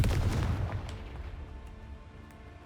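Blast from the Confringo fire spell in the Hogwarts Legacy game: a loud booming burst opening the clip, its rumble decaying over a few seconds with no talk.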